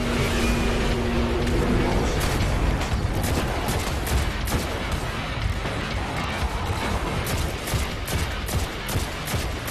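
Rapid, dense gunfire from weapons in the PS4 game Destiny: Rise of Iron, a loud sustained fusillade of overlapping shots and impacts throughout, with no talking.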